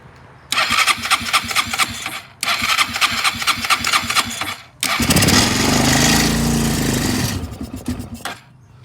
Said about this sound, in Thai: น้ำมันน่าจะมีน้อยนะครับในคาบูเครื่องก็เลยไม่ติด